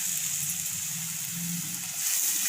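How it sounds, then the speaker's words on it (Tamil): Tomato and curry leaves sauté in a clay kadai, giving a steady close hiss and sizzle with soft bubbling underneath and no talk. "இதுவும் நல்லா வதங்கட்டும்."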